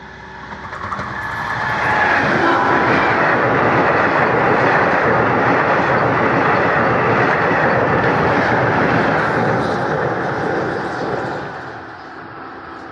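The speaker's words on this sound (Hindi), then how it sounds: "बाईस सेकेंड में पूरा ट्रेन फुल पास" A long train rolls past Nirmali railway station, swelling from a distant approach into a broad, sustained rumble of wheels and cars for about nine seconds before fading, recorded from some distance with no talking.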